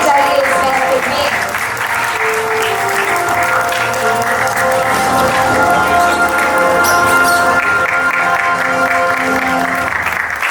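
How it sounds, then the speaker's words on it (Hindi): Sustained applause from the crowd at the Punjabi Ratan Awards 2025 ceremony in Delhi, loud and steady throughout, mixed with music and speech over the clapping. "तालियों की आवाज जितनी करनी चाहिए इस महफिल में।"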